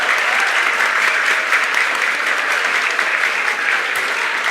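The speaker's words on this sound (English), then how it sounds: "A round of applause for him," A seminar audience gives loud, sustained applause, a dense and even roar of many hands clapping without a break.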